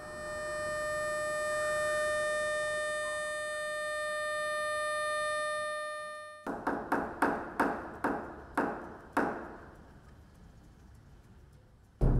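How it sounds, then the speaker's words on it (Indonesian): Military-style siren sounding prayer time at the Sabilal Muhtadin mosque in Banjarmasin: a steady sustained wail for about six seconds, then abruptly cut to a series of sharp rhythmic percussive hits that fade out. "Uniknya, sirine ala militerlah yang menjadi penanda waktu sholat segera tiba."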